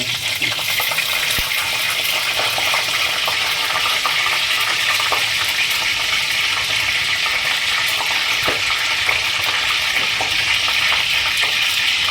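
Curry leaves and a bay leaf fry in hot oil, giving a loud, dense, continuous sizzle and crackle up close, with a few faint clinks and no talking.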